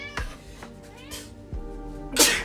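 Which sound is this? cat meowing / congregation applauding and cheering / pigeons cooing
cat meowing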